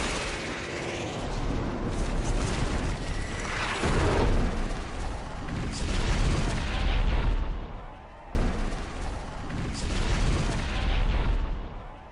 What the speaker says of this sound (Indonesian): para pilot membombardir lokasi yang sudah ditandai dan terjadilah ledakan